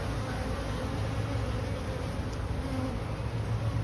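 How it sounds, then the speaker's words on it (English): A steady, dense buzz of honey bees swarming around a hive, with a larger drone among them, close and continuous throughout. "Look at the size of that drone right there."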